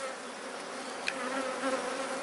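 Italian honey bees buzzing steadily at an open hive during an inspection, a dense continuous hum close by with no voices.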